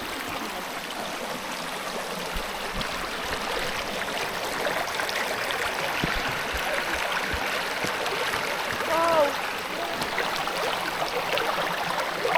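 A small stream runs beside a forest path at Badger Weir Picnic Area, giving a steady close trickling and burbling wash that continues throughout, with a faint bird chirp partway through.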